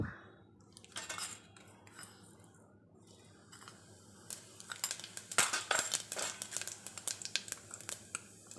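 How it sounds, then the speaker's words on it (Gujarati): Cumin seeds hit hot oil in a pan, about two ladles of oil, for a Gujarati cluster bean and potato curry, giving quiet pan scraping then a dense crackling sizzle with sharp pops that grows louder in the second half. "તો હવે આપણે એડ કરશું જીરું"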